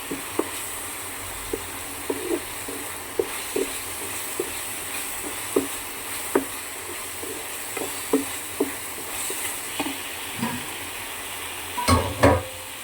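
Onions and aromatics sautéing in a frying pan for a chicken dish, a soft steady sizzle with scattered stirring scrapes and taps recurring every second or so, busier clatter near the end.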